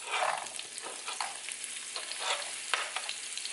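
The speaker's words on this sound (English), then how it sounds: "add another 2 tablespoons of butter. Add your onions" Onions sautéing in butter in a pan, a steady close sizzle with scraping stir strokes recurring through it and no voices.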